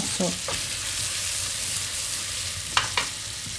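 Pre-boiled black pudding frying in a pan alongside onions, a steady close sizzle with a few brief scrapes of stirring and a short word of speech at the start.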